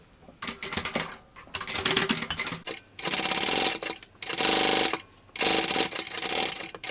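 A sewing machine runs in repeated bursts while stitching the seam of a bucket bag, each rapid mechanical stretch broken by short pauses, close and fairly loud with no talking.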